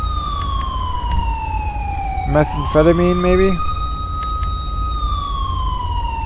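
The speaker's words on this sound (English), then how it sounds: "Can you stop running your siren, please?" A police siren wails steadily in the video game LSPDFR, and in the middle a voice speaks briefly over it.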